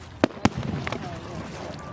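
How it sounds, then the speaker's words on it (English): Fireworks bursting over a lake shore: two sharp, close bangs in quick succession followed by fainter crackling, with people talking nearby. "Oh, 3 different colors, 2 fireworks."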